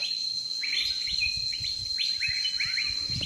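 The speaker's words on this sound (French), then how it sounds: "On entend les oiseaux." Birds in a hot jungle on Koh Samui, Thailand, give repeated bright, sweeping chirps in quick succession over a thin, steady insect whine, moderately close.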